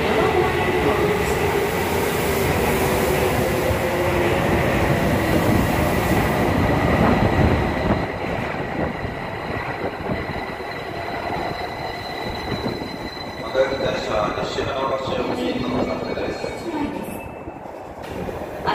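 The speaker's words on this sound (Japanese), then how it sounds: "The local train now for Nishi-Funabashi is arriving at the platform." A Tozai Line subway train rumbles and screeches into Ochiai Station, loud and close, then slows with squealing wheels and hissing brakes as the noise settles.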